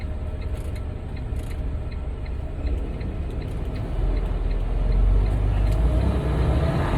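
A car rolls toward a freeway on-ramp after a stop sign, with a steady low cabin rumble of road and engine that swells a little near the end, and faint regular ticking above it.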